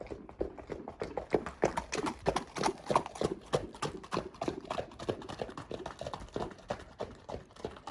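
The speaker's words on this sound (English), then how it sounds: "So wild horses just cruised through." Hooves clop in a steady, overlapping rhythm as several horses walk past close by on a trail near a campground, the footfalls continuing without pause.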